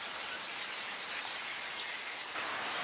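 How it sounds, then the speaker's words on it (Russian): A flock of hundreds of birds in a small garden beside a railway station in Turkey, a dense, continuous wash of high chirps and twittering that holds steady at moderate volume with no talking. "И здесь, наверное, сотни птиц."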